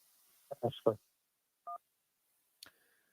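Telephone call-in line tones on a sports radio show. A brief two-tone dial beep comes after a few muffled syllables of speech, then a short click and a faint tone follow.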